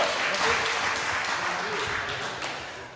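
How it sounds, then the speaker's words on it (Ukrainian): An audience at a ceremony honouring young rescuer heroes gives the children a dense round of applause that stays steady and slowly fades, with voices underneath. "Дякуємо вам, поаплодуйте діткам ще раз."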